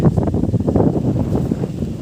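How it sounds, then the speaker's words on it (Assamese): Steady wind gusts across a hot open paddy field buffet the microphone, a continuous low rumble with fluctuating roar throughout, no voices. "বতাহ চলি আছে কিন্তু বহুত গৰম হৈ আছে বৰ্তমান"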